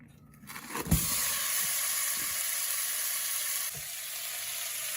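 Ground beef hits a hot pan with a sharp burst of sizzling that settles into a steady, loud, continuous frying hiss, with a second brief spike later.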